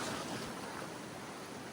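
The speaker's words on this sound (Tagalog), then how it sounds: "Biglang lumakas yung alon." Ocean waves surging stronger off Boracay Island near a grotto, a continuous broadband rush of surf mixed with wind, steady and fairly loud throughout, with no voices.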